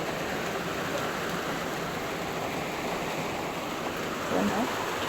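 Rainwater pours steadily through holes in a house roof during heavy rain, a continuous broad wash of falling and splashing water that runs evenly throughout.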